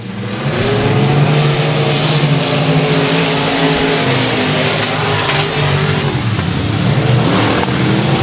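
Pro Mod race cars lapping a quarter-mile speedway oval produce a loud, continuous engine roar that swells and holds as the pack passes close by, with no talk over it.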